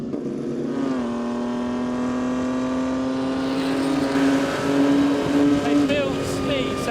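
A Formula 1 race car at Silverstone approaches and sweeps past, its engine pitch climbing steadily in a loud, rising scream, with voices talking over it.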